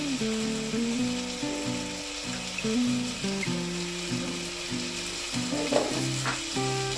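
Chopped tomatoes and turmeric frying in a pan while being stirred, a continuous sizzle broken by scraping and clinking of the spoon against the pan, with no talk.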